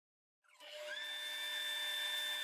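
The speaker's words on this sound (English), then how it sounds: "Doing some final project power sanding on the piece." A power sander starts up after a brief silence and runs continuously with a steady high whine, close and loud, sanding a turned and carved hickory bowl.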